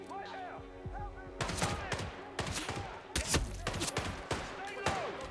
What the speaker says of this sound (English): He's firing at us!